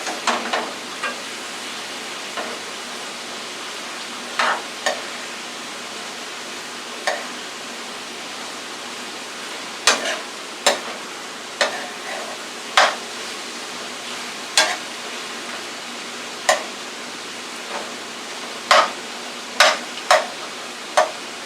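Sirloin tips with red peppers and onions sauté in a pan, a soft steady sizzle under repeated sharp clinks and scrapes of a utensil against the pan at irregular intervals.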